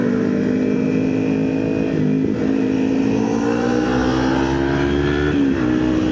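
A motorcycle engine, a CBR250RR or RS150 on a night ride in third gear, hums loudly and steadily up close, its pitch dipping briefly and then climbing as it pulls along, with no talking.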